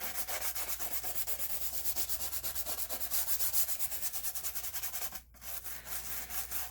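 Steady back-and-forth scrubbing on the plastic case of an Apple IIe computer during refurbishment, a close rhythmic rubbing that pauses briefly near the end, then resumes.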